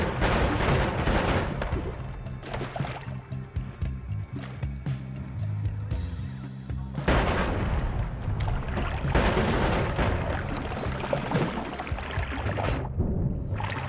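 Mines going off in the game Noita during an underground jungle stage, a run of loud, crackling blasts with booming low rumble, heavy and dense in two bursts separated by a brief lull.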